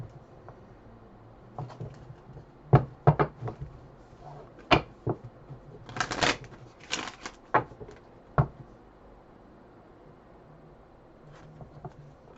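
Quick bursts of card shuffling, a series of short riffles and snaps with pauses between, fairly close and moderately loud, no talking.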